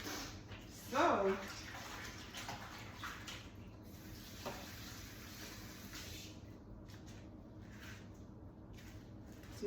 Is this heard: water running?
yes